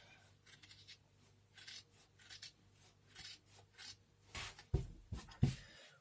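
Scissors cutting Chanel-type fabric for a vintage jacket, quiet scattered snips and rustling strokes that grow louder and sharper toward the end, with no talk.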